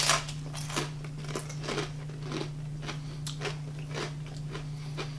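Thick, plain-tasting tortilla chips being bitten and chewed up close, giving about a dozen sharp, crisp crunches in an irregular rhythm over a steady low electrical hum, with no talking.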